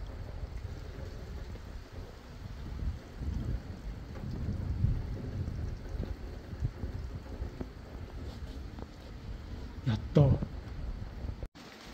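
Heavy rain pours down during a thunderstorm, a dense steady hiss with low rumbling that swells and eases, then a louder burst of rain near the end.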